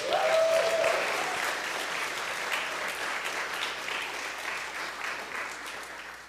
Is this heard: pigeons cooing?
no